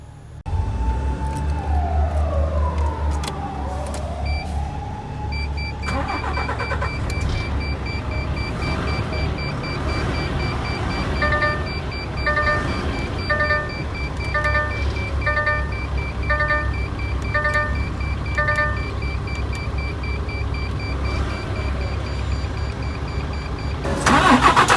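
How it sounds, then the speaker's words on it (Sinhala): A DAF XF Euro 6 truck engine cranks and fires up, then settles into a steady, loud diesel idle inside the cab, accompanied by repeating electronic dashboard warning beeps and chimes. "දැන් අපි පොඩ්ඩක් ස්ටාර්ට් කරලා බලුවොත් හොඳයි නේද? එන්ජින් එකේ සවුන්ඩ් එක කොහොමද කියලා බලන්න."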